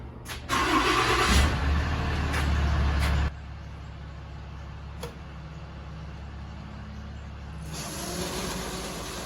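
A salt truck's engine cranks and fires with a sharp burst, runs loudly for a few seconds, then drops to a steady low idle with a couple of brief clanks, picking up again near the end.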